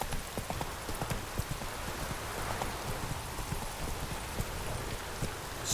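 Horse hooves galloping in The Witcher 3, a steady rapid clip-clop rhythm running throughout, loud and close, with no talk over it.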